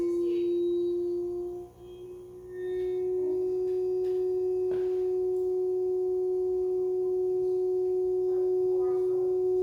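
Pure sine tone played through varying frequencies, a single steady loud tone that holds at one pitch for most of the stretch, briefly dipping and shifting near the start, with no voices.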